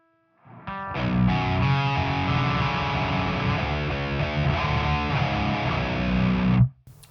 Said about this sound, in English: And now let's activate the Gehenna.